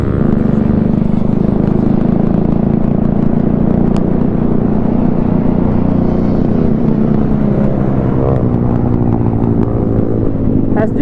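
Motorcycle riding on a highway, fitted with an aftermarket SG exhaust, its engine droning loud and steady at close range, with wind rumble.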